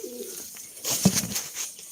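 Pigeons cooing inside a coop, a few soft throaty coos rising near the middle, with faint rustling around them and no talk.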